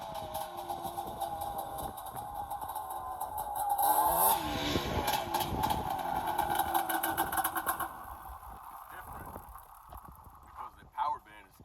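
A Yamaha 350 off-road motorcycle engine runs steadily, rising louder and rougher midway, with people talking over it throughout.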